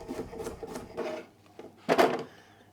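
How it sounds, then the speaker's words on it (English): A kitchen knife slicing cucumber for a salad on a wooden cutting board, about five quiet rasping chops in an uneven rhythm, with the last stroke the loudest, set close and alone. "And then some cucumber for my salad. Cut some slices."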